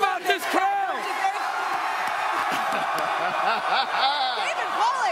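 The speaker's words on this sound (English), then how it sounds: "How about this crowd?" A lively crowd at an ESPN College GameDay broadcast in Kalamazoo, with dense cheering, whoops and laughter building into a steady roar, while voices talk over the noise.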